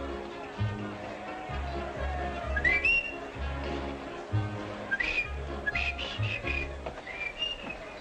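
A person whistles the tune Dixie, short bright whistled phrases rising over a low background hum and shuffling, with voices talking intermittently.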